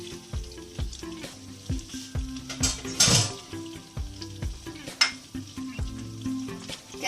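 Spaghetti hits a pan of hot olive oil and garlic, hissing and sizzling close by while being tossed and stirred, with clinks and scrapes of utensils, no talking.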